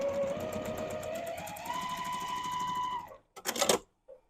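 A Mini Quilter sewing machine stitches a fabric seam, humming steadily with a rising pitch for about three seconds before stopping, followed by a few short close clicks and handling noises.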